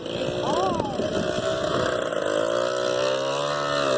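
A 1986 four-wheeler ATV engine revs steadily and loudly close by while it tears through mud, with people talking over the drone throughout.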